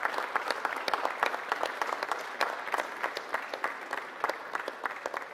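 Banquet audience at a college athletics awards night applauds steadily, a moderately loud stretch of crisp, distinct claps from a sizable room with little talking.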